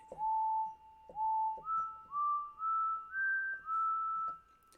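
An X-Files-style whistle patch on a Modal Argon8 synthesizer plays a clean melodic phrase of seven sustained notes, each opening with a quick upward whoop, rising gradually in pitch, clear and alone.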